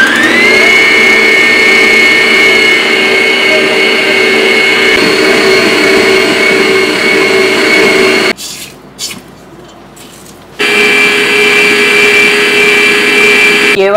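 A vintage Ariete Bacco mixer beats at speed 4 with a loud, steady whining motor drone, cutting out abruptly for about two seconds of near quiet before whirring back up at full volume.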